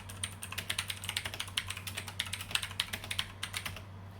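Rapid clacky keystrokes on a cheap $10 Five Below gaming keyboard with blue mechanical switches, close and steady, each press a crisp click over a low electrical hum, no voices.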